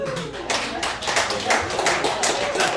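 A comedy club audience bursts into applause and claps in rapid rounds at a stand-up show, a dense wash of clapping that swells and persists after a brief lull at the start.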